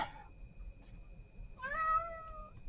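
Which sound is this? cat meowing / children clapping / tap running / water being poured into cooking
cat meowing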